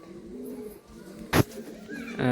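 Andhra pigeons held for sale coo in low, soft, rolling calls, with a sharp brief flutter or knock in the middle and another sound rising at the end.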